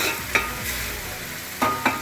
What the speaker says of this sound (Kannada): ಟೊಮಾಟೊ ಹಾಕಿದ್ದೀನಿ ಈಗ. ಇದನ್ನು ಚೆಂದಾಗಿ ರೋಸ್ಟ್ ಮಾಡ್ಬೇಕು ಫ್ರೆಂಡ್ಸ್